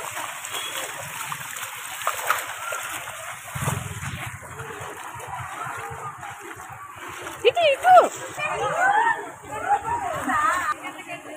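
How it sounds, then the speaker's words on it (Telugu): Heavy evening rain with water splashing and sloshing nearby, a child splashing through puddles, voices chattering over the wet patter and intermittent louder splashes. "వర్షం వచ్చింది బాగా."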